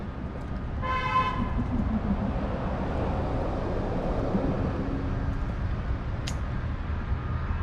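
A bus sounds a short, loud horn toot early on against steady traffic rumble on an early-morning Orlando road, followed by continuous road noise and a faint high squeak near the end.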